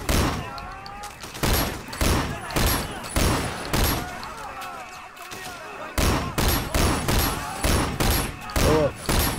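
Shotgun blasts from the video game Sleeping Dogs boom in rapid, loud bursts, roughly a dozen sharp reports in uneven clusters with brief gaps, while a player talks between shots.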